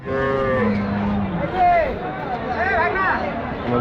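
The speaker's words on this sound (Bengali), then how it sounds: "এই যে এই গরুটা দেখেন, সুন্দর একটা গরু আর সুন্দর একটা বাছুর।" Cattle at a livestock market where pregnant cows are sold with calves: several loud, close moos and lowing calls that bend in pitch, over a background of crowd chatter.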